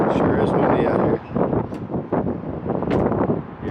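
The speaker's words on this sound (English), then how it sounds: "Sure is windy out here." Gusty outdoor wind buffets the microphone in a steady, loud roar with brief dips, while people talk underneath.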